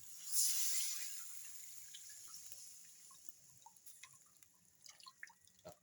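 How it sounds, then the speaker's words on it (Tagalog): Water added to a cooking pot on a home stove, a brief splashing pour followed by quiet scattered drips, faint and close with no talk. "Yan, lagyan ko ng tubig guys."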